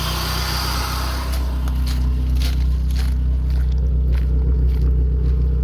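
A repaired Lada Priora 16-valve engine idles smoothly after cylinder head work, with a steady low hum running evenly throughout under a few faint ticks.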